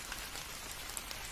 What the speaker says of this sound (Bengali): হঠাৎ এরই মাঝে ঝমঝমিয়ে শুরু হলো মুষলধারে বৃষ্টি